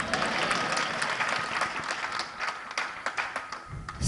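Audience applause at a Jain religious discourse (mangal pravachan), a dense, steady wash of many hands clapping throughout, swelling slightly near the end.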